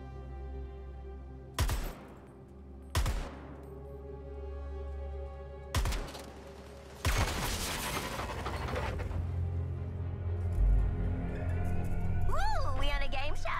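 Gunfire in the Suicide Squad: Kill the Justice League video game, several separate loud shots spaced a second or so apart, then a longer burst of firing and crashing noise, with voices talking later in the scene.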